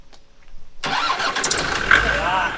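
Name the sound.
Renault 5 GT Turbo engine starting and idling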